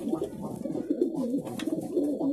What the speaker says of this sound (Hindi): मैं एक बार फुल कबूतर दिखाता हूँ कि कैसे है अंदर मेरे कबूतर